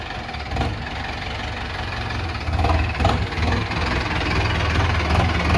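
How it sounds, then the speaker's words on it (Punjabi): An Arjun 605 diesel tractor idles steadily close by after pulling in at home, a continuous low rumbling chug with slight knocking pulses and no pauses. "ਬਾਕੀ ਘਰੇ ਆ ਗਿਆ ਆਪਣਾ ਟਰੈਕਟਰ"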